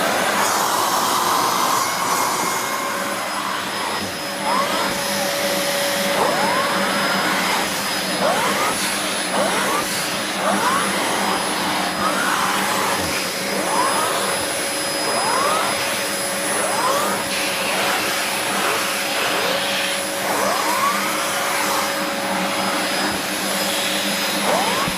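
A Dyson DC04 Limited Edition vacuum cleaner from 2000 runs with a slow-spinning attachment on the end of its hose: a loud, steady close-up roar with a high motor whine and faint repeated swishing chirps, with no talking.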